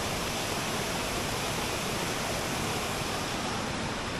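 Steady broadband rush of river water along a mountain hiking trail in Romania, continuous and fairly loud from start to end, with no voices.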